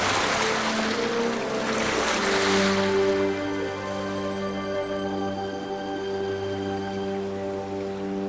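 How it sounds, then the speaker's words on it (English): Drifting river ice on the Amur River in early spring gives a steady grinding wash that turns into sustained eerie tonal ringing and humming, continuous and fairly loud, with no voices. "strange sound of drifting river ice signals the start of spring along the Amur River."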